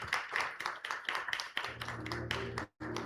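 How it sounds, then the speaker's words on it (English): Audience applause at an industry tech conference: a dense burst of clapping from a crowd, fairly close and steady, joined partway through by a low sustained musical tone, with a brief dropout near the end. "Let that applause continue"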